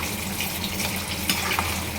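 Masala is stirred into a frying potato and chana dal curry, giving a steady close sizzle with soft scraping as the pan mixture is turned.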